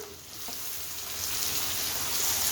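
Chopped tomatoes go into a pan of sizzling onions for a mochai and potato sabji, giving a steady, close frying hiss that builds slightly, with no talking.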